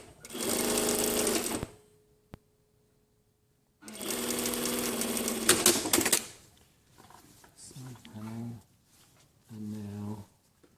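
A domestic sewing machine stitches a jacket lining side piece onto a back panel in two long, steady bursts separated by a pause, followed by shorter, softer runs of stitching near the end.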